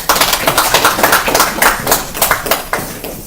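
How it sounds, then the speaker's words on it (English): Sustained audience applause from a room of listeners, dense overlapping hand claps at close range, steady and loud for the whole stretch without fading. "Another round of applause."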